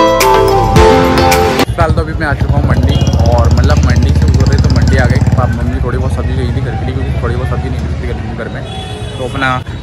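A motorcycle engine runs steadily with a low rumbling hum as a ride begins, loud and close, with a person talking over it throughout.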